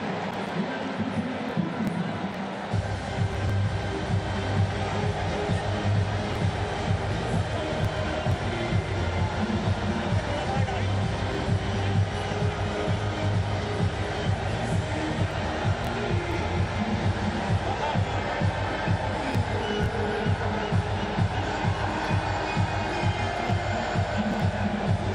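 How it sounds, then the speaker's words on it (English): A big crowd at an Asia Cup 2025 India vs Pakistan cricket match makes a dense, steady roar that fills the whole stretch, with a commentator talking over it. "a big crowd in here today"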